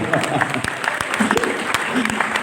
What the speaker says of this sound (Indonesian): Tepuk tangan yang meriah untuk close the door Habib Hussein Jabar